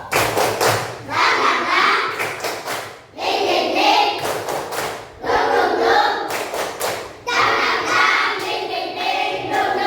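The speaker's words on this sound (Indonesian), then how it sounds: "Tepuk semangat Kang Dingduk." A third-grade class performs a rhythmic spirit clap in several bursts, sharp synchronized hand claps and thumps falling into a patterned beat with short pauses between rounds, and children's voices chanting along.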